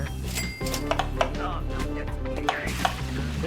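Potatoes are chopped for French fries in Overcooked played in VR. Several light knife taps and clinks are heard against kitchen game noise and music while players talk over them.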